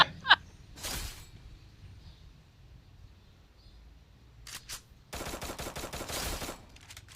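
Gunfire in the video game Free Fire: a single shot, a brief burst, then rapid automatic fire in quick repeated cracks, fairly close.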